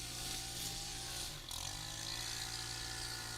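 A power tool runs steadily nearby at a fairly loud level for the whole stretch, with a brief dip in its whine partway through and no talk over it.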